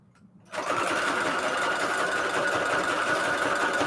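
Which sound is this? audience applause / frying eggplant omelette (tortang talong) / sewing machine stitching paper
sewing machine stitching paper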